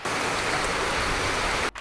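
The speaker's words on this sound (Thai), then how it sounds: "วันนี้ที่บ้านของผมเนี่ยฝนตกหนักมากๆเลยนะครับ" Heavy rain pours down at home in a steady, dense roar that fills the whole span at close range, cutting off abruptly near the end.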